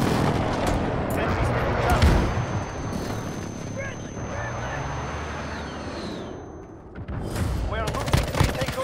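Airstrike in the Call of Duty Modern Warfare beta: heavy booming blasts and rolling gunfire fill the scene, with loud impacts near the start and a fresh burst of explosions toward the end, and faint voices underneath.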